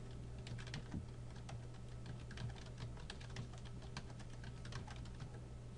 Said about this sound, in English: Okay, I guess I can type.